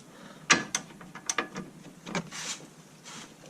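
Spanner clicking and ratcheting on an 18mm bolt of the lower wishbone suspension on a 2001 VW Golf Mk4 1.8T GTI, a few short metallic clicks and knocks close by, fairly quiet, with no talking.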